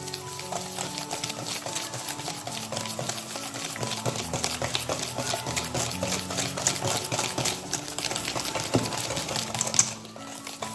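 Pancake batter with cornflour being whisked by hand in a bowl, a rapid, steady clatter of whisk strokes close by and continuous, stopping abruptly near the end; no voices.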